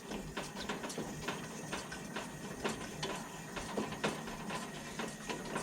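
Rhythmic squeaks and clicks from hand-pumping pressure into the fuel tank of a Coleman 425F double burner stove, fairly quiet and close, repeating at an even pace.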